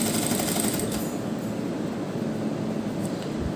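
A sewing machine runs in a steady, fast, even whir while stitching piping onto a cuff sleeve, with no voices over it.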